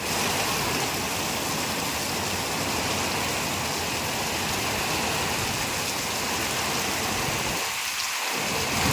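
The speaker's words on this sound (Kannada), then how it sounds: "ಈ ಪಾಟಿ ಮಳೆ ಬರ್ತಾ ಇದೆ" Heavy rain pours steadily over a farm at home after jowar sowing, a loud unbroken roar with rolling thunder throughout, and no voices.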